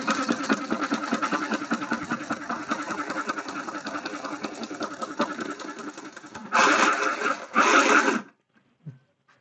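A small handheld mini sewing machine stitching with a rapid, buzzing mechanical rattle that runs steadily and then surges louder in two short bursts before stopping. The thread is jammed inside it, and no one speaks over it.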